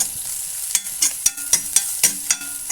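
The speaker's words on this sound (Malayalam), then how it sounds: "ഇതൊക്കെ ഒന്ന് വഴറ്റി കൊടുക്കുന്നുണ്ട്" Green chillies and ginger sautéing in a pan for mandi, with a steady hiss of frying broken by regular scrapes and taps of a spoon stirring, close and clear.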